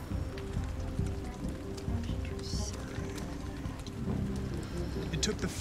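Steady patter of rain in the video game Detroit: Become Human fills the scene, a dense wash of drops with faint low thumps underneath, moderately loud and continuous.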